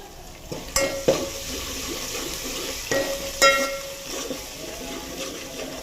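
Onion masala with turmeric and coriander fries in a pan for Telangana-style mutton curry, a steady close sizzle broken by a few sharp clinks and scrapes of stirring.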